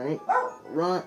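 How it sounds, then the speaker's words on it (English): A small dog barks in the background in a quick series of three yelps, fairly close and loud, overlapping a person speaking briefly. "Sorry if you hear barking in the background, that's my grandma's dog."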